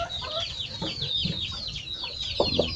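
Chickens on an organic farm cluck and chirp softly while feeding, a busy overlapping stream of short calls with a few louder clucks near the end, close by.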